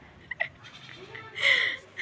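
A goat bleating outdoors on the ground behind the house, a short burst of cries, moderately loud against a quiet background.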